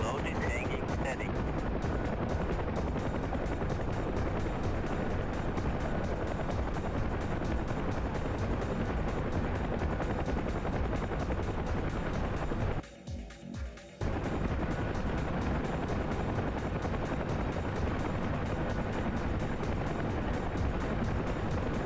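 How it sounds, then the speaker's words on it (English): Chinook helicopter in DCS World carrying a hanging sling load, its rotor thudding steadily throughout with a sharp brief dropout midway, under voices talking over it. "The Chinook is a horrible one to sling load."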